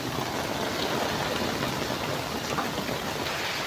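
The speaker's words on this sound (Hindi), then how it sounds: "ज़बरदस्त बारिश हो रही है जी आज" Steady monsoon rain pours down heavily beneath a tree, a constant close wash of hissing drops on surfaces with no break and no talking.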